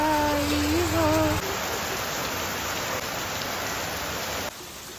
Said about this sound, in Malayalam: കറക്റ്റ് അമ്പലത്തിൻ്റെ ഫ്രണ്ടിലെത്തിയപ്പം ഭയങ്കരമായിട്ട് അങ്ങോട്ട് മഴ പെയ്യാൻ തുടങ്ങി.